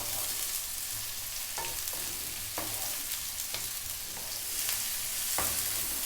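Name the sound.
sliced onion stir-frying on high heat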